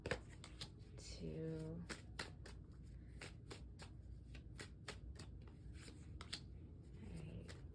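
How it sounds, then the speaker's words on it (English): Tarot cards being shuffled and drawn from a deck, a steady run of crisp, close riffling flicks and slides repeating rhythmically, with a soft voice murmuring briefly underneath. "let's get 3 cards for that King of Cups"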